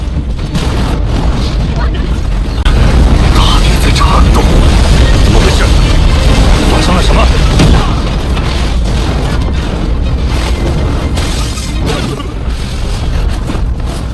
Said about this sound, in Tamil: அதே நேரத்துல இந்த இடத்துல ஒரு வெடி விபத்து நடந்துட்டு இருக்கு